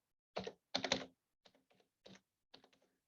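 Keys tapped on a computer keyboard to enter a command, heard as a few quick clusters of keystrokes with short pauses between them, close and fairly clear with no talking.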